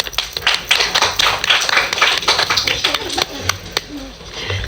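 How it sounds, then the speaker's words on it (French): Students in a classroom clap for the best-behaved pupils, a close, uneven patter of hands with sharp individual claps, mixed with some chatter. "On peut les applaudir."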